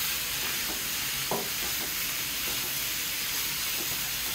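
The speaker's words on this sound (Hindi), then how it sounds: "अब इसमें हम शामिल कर देंगे आधा किलो चिकन का कीमा" Half a kilo of chicken mince frying in a pan with onion and ginger-garlic paste, a steady loud sizzle and hiss with occasional stirring scrapes, close up and without speech.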